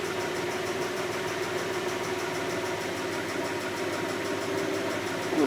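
A car engine idles steadily with a low, even hum and faint mechanical ticking, close and continuous throughout, no voices.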